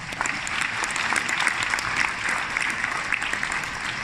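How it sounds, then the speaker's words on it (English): A large conference crowd breaks into steady, dense applause, loud and sustained throughout with no pause. "That deserves a round of applause."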